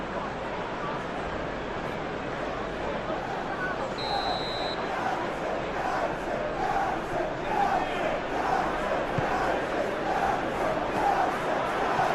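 Steady stadium crowd murmur and cheering in the PES 21 football game during a Manchester United versus Everton match, a broad continuous roar with a commentator talking over it.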